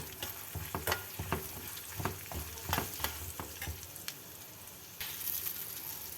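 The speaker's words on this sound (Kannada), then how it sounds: "ಸ್ವಲ್ಪ ಇದನ್ನು ಫ್ರೈ ಆಗೋದಕ್ಕೆ ಬಿಡೋಣ" Spices for a tempering for millet mango rice sizzle and crackle in hot oil in a pan, with a spoon stirring and scraping in scattered bursts, close and fairly steady.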